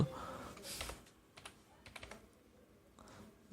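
Computer keyboard typing in Avro software for Bengali text: bursts of quick, close key clicks with short pauses, fairly quiet and with no voices.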